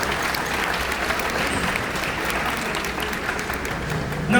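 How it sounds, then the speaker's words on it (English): Audience applause for the food and beverage team at an elite platinum event aboard the Sun Princess cruise ship, a steady dense wash of many hands clapping throughout, fairly loud and continuous. "can we please give a nice round of applause to our food and beverage team, our rooms division team"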